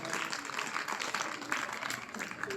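Audience applauding at a Republic Day ceremony in a village, steady dense clapping from a crowd that holds at an even level throughout, moderately distant.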